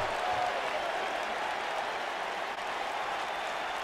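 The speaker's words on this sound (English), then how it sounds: "this crowd is rocking" A steady roar of a cheering arena crowd in the WWE 2K wrestling video game, loud and continuous with no clear peaks throughout.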